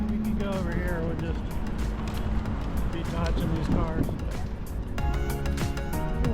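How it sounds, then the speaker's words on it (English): Cars passing on a road in St Thomas, a continuous broad engine and tyre rumble moving by close, with people talking over the traffic throughout. "We'll just be dodging these cars."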